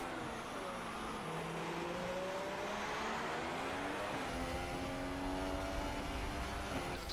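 Formula 2 cars racing at a Spanish round, a dense, continuous high engine roar with pitch sweeps as cars pass and shift, loud and sustained with no clear gaps.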